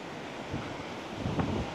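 Sea waves and wind on the beach at Dhanushkodi near the old town, a steady broadband rush of surf with wind noise buffeting the microphone and a few stronger wave swells rising toward the end.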